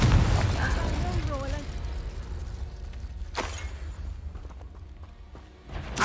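Confringo explosive spell in Hogwarts Legacy, one sharp blast midway amid other spell effects and combat noise, with a voice calling out spells.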